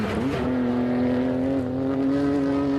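An RB26-engined classic car accelerates at the Simola hill climb, its engine note rising and then holding a loud, steady, tonal drone close by.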